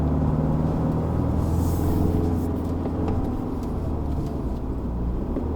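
A 2021 Isuzu D-Max X-Terrain pickup takes a bend on a mountain road while downshifting, its engine a steady loud rumble heard from inside the cabin with a brief rise in revs.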